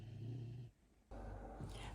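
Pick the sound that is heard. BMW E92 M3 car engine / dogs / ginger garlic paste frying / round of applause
dogs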